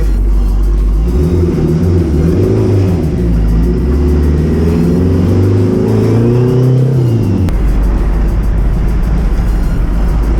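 A tuned Honda CRX drives along, its engine droning loudly inside the car with rising and falling pitch as it accelerates and shifts, then settles to a lower rumble near the end.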